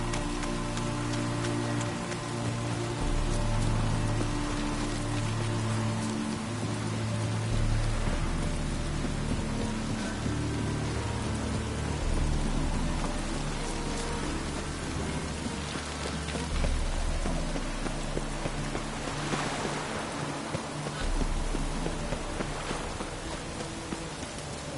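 Steady in-game rain in The Witcher 3: Wild Hunt patters continuously, with dense droplet hiss and low rumbles that may be distant thunder, layered over a sustained tonal game music or ambience bed for the full twenty-five seconds.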